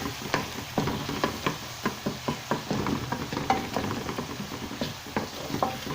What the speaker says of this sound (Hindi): थोड़ी देर असां हिननि टमाटरनि खे भूनंदासीं, 2 मिनट इनको भून लेंगे और थोड़ा सा कुचल लेंगे